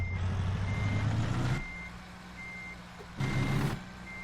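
Reversing beeps from a truck in American Truck Simulator: two loud bursts of steady beeping over engine rumble, separated by a quieter stretch of idling, close and clear, no talking.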